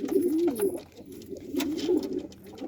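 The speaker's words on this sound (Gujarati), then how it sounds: "તો આ બધે કબૂતર ખાઈ લીધું હોય ને અડધા કબૂતર ઉપર બધા બેઠા" Pigeons coo in a loft where some birds perch up high, a nearby run of soft, throaty rolling coos repeating in overlapping phrases with a brief lull midway.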